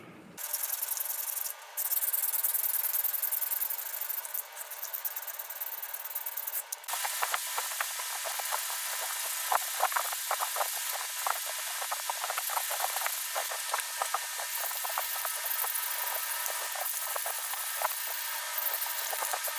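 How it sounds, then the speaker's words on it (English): Sandpaper rubbing steadily over a handmade knife's handle, with a continuous bright scratchy hiss made of short repeated strokes, close and fairly loud, no talk. "The handle's all sanded."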